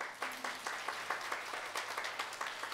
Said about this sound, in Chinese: 想听请给我热烈的掌声。